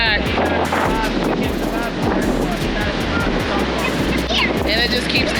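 Surf rolls onto a windy beach in a steady, loud wash, with wind buffeting the microphone and rumbling low throughout, and voices carrying faintly in the background.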